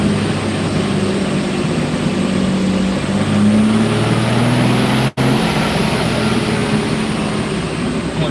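A Corvette engine held at high RPM on a dyno makes a loud, steady drone whose pitch creeps slowly upward, with one brief dropout partway through.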